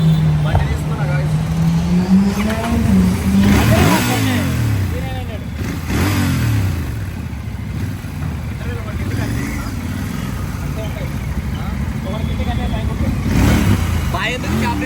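Motorbike engine rumbling close by, rising and falling as it revs and accelerates, with a voice talking over the engine almost throughout.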